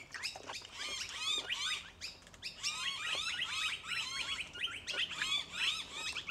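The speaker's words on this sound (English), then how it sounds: "Noisy birds." A busy flock of birds outdoors chirps and squawks continuously in overlapping, rapid calls, fairly close and lively throughout, with no talking.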